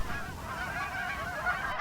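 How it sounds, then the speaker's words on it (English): Canada geese honk repeatedly at a moderate distance while coming in to land on a pond, their calls overlapping in a steady, busy chorus. "These Canada geese were coming in to land on a pond near Gem"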